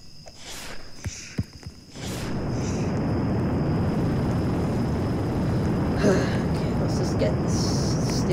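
A helicopter flies in the Roblox game Jailbreak. After a couple of seconds of quieter scattered sounds, a steady rumbling rotor drone swells in and holds for the rest of the clip, with voice sounds early on.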